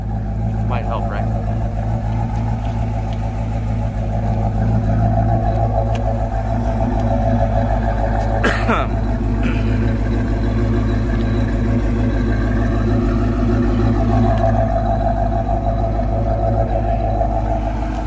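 Supercharged 1994 Ford Mustang GT on the move, its engine a steady low rumble with a whining drone and a few faint clicks, heard from inside the car at constant volume for nearly twenty seconds.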